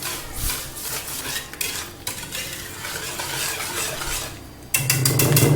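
Salt, anise and almonds are mixed together in a bowl, with steady close spoon scraping and clinking against the sides that grows louder and busier toward the end, and no talking.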